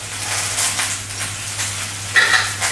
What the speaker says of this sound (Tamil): நம்ம வெண்டைக்காயை வதக்கிடுவோம்